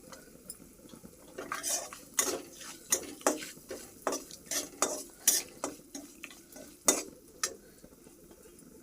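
Turmeric being stirred into a mixture in a pan, a spoon scraping and clinking against the pan in irregular repeated strokes over a faint sizzle, near and clear.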